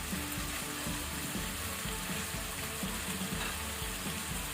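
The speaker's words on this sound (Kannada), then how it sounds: "ಈಗ ಇದನ್ನೀಗ ನಾವು ಫ್ಲೇಮ್ ಹೈಯಲ್ಲಿ ಇಟ್ಕೊಂಡು ಈಗ ಎಣ್ಣೆಯಲ್ಲಿ ಫ್ರೈ ಮಾಡಬೇಕು" Chicken pieces for soy sauce chicken frying in oil over a high flame, a dense, steady close sizzle with light stirring clatter and no speech.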